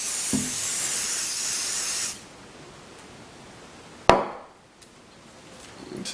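Coating is sprayed from an aerosol can onto a mold plug in a steady hissing burst lasting about two seconds, close by, followed by quiet and a sharp knock as something is set down.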